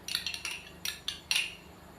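A spoon stirs whipped yogurt and four chopped green chillies into chicken in a cooking pot for degi-style aloo chicken, giving a few quick metallic scrapes and clinks in short bursts, close up, with no talking.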